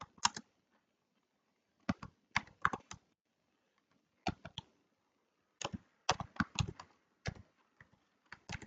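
Bursts of typing on a computer keyboard, close and crisp clicking keystrokes in short irregular clusters separated by quiet pauses, with no voices.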